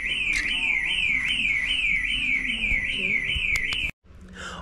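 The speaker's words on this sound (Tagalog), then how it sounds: "Nag-alarm." A loud electronic alarm wails up and down in a fast, regular warbling cycle, then cuts off abruptly and leaves a fainter background.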